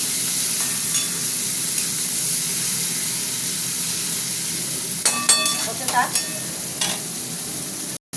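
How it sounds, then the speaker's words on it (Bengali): Prawns, fish maw and onion fry in a pan with a constant loud hiss and sizzle, several sharp scraping stirs bunching up near the end, and a voice speaking briefly. "পেঁয়াজটার সঙ্গে আমি মাছগুলো দিয়ে দিচ্ছি, চিংড়ি মাছ, মাছের পটকা সব দিয়ে দিলাম। পেঁয়াজও ভাজা হবে, এটাও ভাজা হবে।"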